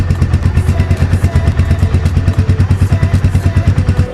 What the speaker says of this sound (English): the exhaust note on this bike is quite distinctive